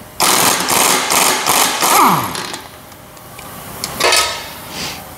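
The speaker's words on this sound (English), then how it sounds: "This is a really good half inch drive air impact. And we're gonna take piston nut off." A half-inch drive air impact wrench removing the piston nut on a Bobcat tilt cylinder gives loud, close rattling bursts that ease off, followed by a couple of shorter hammering bursts.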